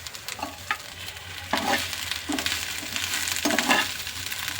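Okra stir-fries in a pan with a steady, soft sizzle, broken up by several scraping, clattering bursts as a spatula turns the pieces.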